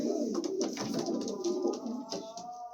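Several pigeons from a loft of fancy breeds, including golden and black-green varieties, coo in overlapping low throaty calls, close by and moderately loud, with no voices over them.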